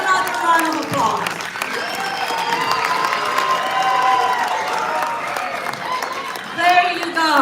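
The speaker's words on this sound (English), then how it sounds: "Let's give them another round of applause." A crowd at an awards event gives sustained applause with cheering, a dense, steady wash of clapping and shouting voices that swells again near the end.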